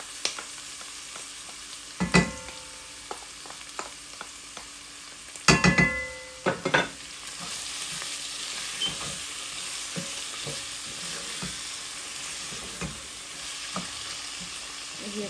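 Tomato puree sizzling in a pan for chicken jalfrezi, a continuous close frying hiss with a few sharp stirring clatters early on, then steady bubbling sizzle without talk.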